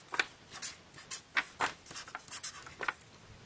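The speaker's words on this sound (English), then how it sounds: "I should write that down." A pen writes measurements onto a felt pattern for mukluk liners, giving soft, close scratchy strokes in short separate bursts with small pauses between them, set against a quiet room.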